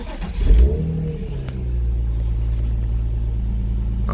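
Infiniti V6 engine cranks and catches, a brief surge of revving followed by a steady, loud, rumbling fast idle that holds evenly to the end.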